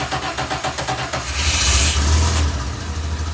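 A turbocharged DeLorean engine cranks with a rapid rhythmic churn for over a second, then catches and fires into a loud, steady idle close by.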